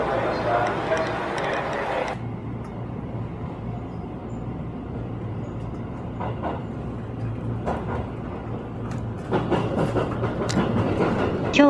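A JR Maizuru Line one-man train pulls away from Higashi-Maizuru station with a steady low rumble, rising motor whine and faint wheel clicks. A recorded announcement voice speaks over it.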